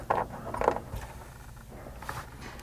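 A hex bolt is threaded by hand into a nut held behind a bracket while installing a rear window MOLLE panel on a Toyota Sequoia: a few light, close metallic clicks and scrapes with quiet pauses between them, no voices.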